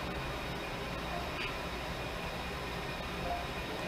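A steady, continuous rumble and hum of a Kato N scale model train running on a track, with faint clicks, unchanging in level.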